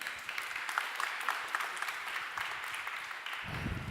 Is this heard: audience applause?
yes